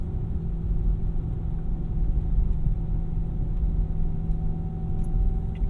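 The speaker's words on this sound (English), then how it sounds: "You might hear some, like a whirring noise." Rear differential whir from a 2007 Dodge Charger SRT8 6.1 while driving: a steady low rumble with a constant tonal whine layered on top, continuous and even throughout, with no talk.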